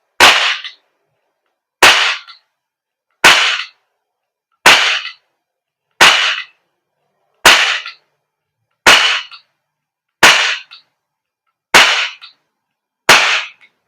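An Umarex Glock 17 Gen 5 MOS airsoft gas blowback pistol by GHK fires ten crisp, loud, evenly spaced shots, each a sharp snap with a quick metallic tail, separated by silence.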